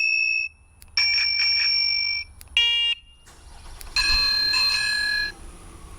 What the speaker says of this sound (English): I also put a bell on here, electric bell